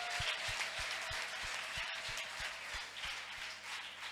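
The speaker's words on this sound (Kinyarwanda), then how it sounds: "Dukomere Yesu amashyi menshi cyane." A church congregation applauds for Jesus with sustained, dense clapping heard from a distance. The applause is fairly faint and steady throughout, with a low rhythmic thump pulsing regularly underneath.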